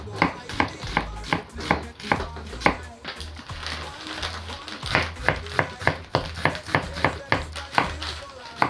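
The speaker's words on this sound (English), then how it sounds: "here I'm cutting my onion, guys. Then I go ahead and I chop." Knife chopping onion on a cutting board while making Jamaican stew peas, a fast run of sharp, close, evenly spaced cuts that speeds up toward the end, with light kitchen background noise.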